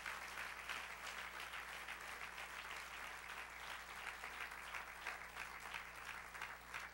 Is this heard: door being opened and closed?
no